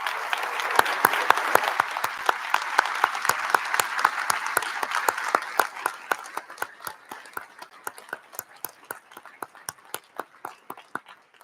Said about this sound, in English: I think they all deserve one final robust round of applause